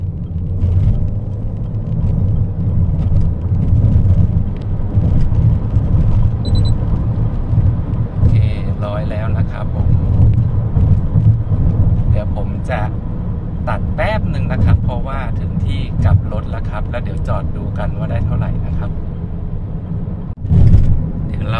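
A Haval H6 HEV hybrid SUV accelerates hard from 0 to 100 km/h, its low engine and road rumble building steadily from inside the cabin while someone talks over it.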